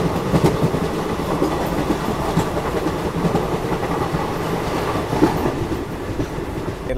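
The Himsagar Express runs along the rails in India with a continuous loud rumble and rattle of carriages, steady clickety-clack heard from close by, no voices.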